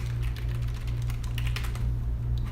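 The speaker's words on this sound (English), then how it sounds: "typing into the live chat here, and I can confirm it is working" Steady rapid clatter of keys on a computer keyboard while someone types into a live chat, close and continuous over a low electrical hum, with no talking.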